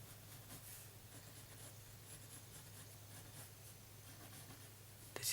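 A pencil sketching a cartoon on paper gives faint, close scratching and rubbing strokes over a quiet room hum, ending in a brief louder knock.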